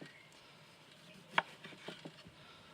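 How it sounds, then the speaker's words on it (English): Knife cutting thin slices of lemon on a board, a few soft close taps with one sharper cut standing out, all fairly quiet and with no voices. "And then I'm going to cut a few thinner slices"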